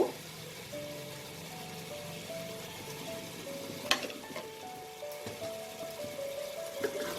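Mutton sizzles steadily while being sautéed in a pan, with continuous frying crackle, occasional sharp spoon or spatula clinks, and stirring scrapes throughout.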